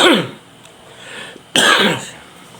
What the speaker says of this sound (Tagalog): inuubo po kasi tayo